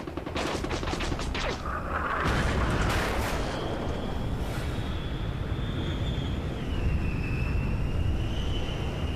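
Rapid bursts of heavy 20 mm automatic cannon fire hitting a MiG crackle at the start, then give way to a loud, steady roaring rumble with a thin high whine above it.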